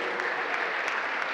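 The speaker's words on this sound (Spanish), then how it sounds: "El aplauso para esos jóvenes" Audience applause greets the Bravos de Nuevo Laredo youth soccer players at a team presentation, a steady dense clapping of a crowd.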